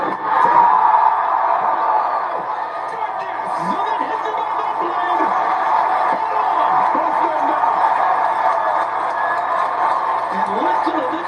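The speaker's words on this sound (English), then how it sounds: "And listen to this crowd." A packed arena crowd at a Newark, New Jersey fight event roars and cheers steadily, loud and sustained throughout, with a commentator's voice over it.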